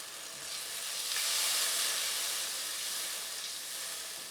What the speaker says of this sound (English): Then I'm going to add 113 grams of butter. I'm going to let that melt.